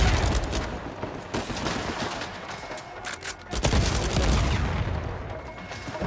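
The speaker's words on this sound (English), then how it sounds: "Bro, they just got explosions left and right." Explosions and rapid gunfire crowd a prison escape scene in Uncharted 4 on PS5, a loud, continuous barrage of blasts and crackling bursts with a brief dip midway before the din surges again.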